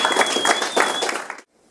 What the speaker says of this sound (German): Ganz herzlichen Applaus, meine Damen und Herren, für Michael Smolik.